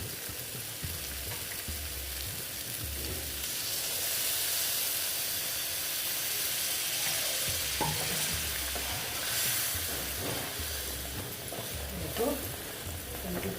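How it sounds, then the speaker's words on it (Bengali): Water goes into a sizzling pan of pointed gourd (potol) curry cooked with sesame, bringing a burst of loud hissing steam over ongoing frying, with some stirring and utensil knocks close by. "এখন আমি দিয়ে দেবো অল্প জল জলটা তো দিতেই হবে কারণ পটলটা সেদ্ধ হতে হবে"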